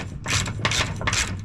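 A ratchet with a 15mm socket clicks in three quick bursts while loosening a bolt on a John Deere S140 48-inch mower deck, close and crisp with no talk.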